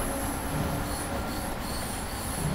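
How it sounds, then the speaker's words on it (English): A high-speed electric train with power cars at both ends accelerates on the London–Faversham line in Train Simulator 2022, giving a steady loud rail rumble with high squealing wheel tones throughout. "This train does pick up really quickly."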